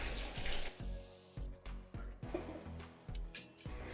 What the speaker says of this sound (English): Take a basin and pour 10 liters of warm water into it.